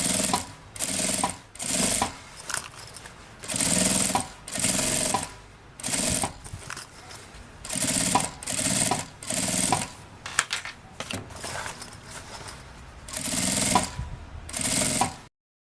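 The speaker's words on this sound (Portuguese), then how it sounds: "E aqui uma costurinha bem na beiradinha, segurando o viés no material em toda a volta." A sewing machine stitches bias binding along the edge of a vintage case. It runs in loud, rattling bursts of a second or two, with short pauses between them, and no one speaks.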